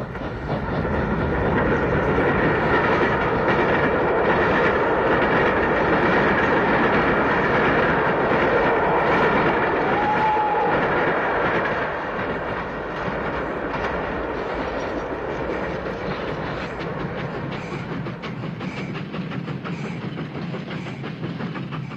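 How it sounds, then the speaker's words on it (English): Two London to Bristol express steam-era trains from 1952 rush past with a loud, continuous roar and rumble, steady and close, easing slightly toward the end with faint rhythmic clatter underneath. "the bonus of two London to Bristol Express trains in action"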